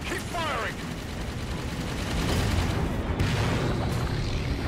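Weapon fire and explosive booms rumble steadily through a Halo 5: Guardians firefight, dense and continuous with a brief whooshing sweep near the start.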